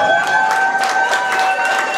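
An audience at a Democratic gubernatorial forum in De Pere claps and cheers. The sound is a steady, fairly loud wash of clapping and crowd noise, with a faint sustained hum running underneath.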